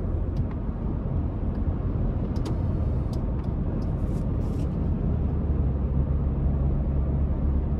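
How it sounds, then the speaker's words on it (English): A 2024 Toyota Tundra SR5 Double Cab TRD Off-Road pickup with a twin-turbo V6 and 10-speed automatic cruises on light throttle, giving a steady, quiet low engine and road drone throughout with no talk. "And just giving it light throttle, it's pretty quiet."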